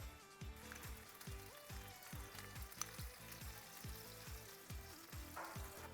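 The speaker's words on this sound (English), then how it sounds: "we're gonna let it melt down a little bit to create a nice coating on the bottom of the saucepan" Butter melts in a saucepan as the chicken Alfredo begins, giving a faint, steady crackling sizzle that stays even throughout, with soft music in the background.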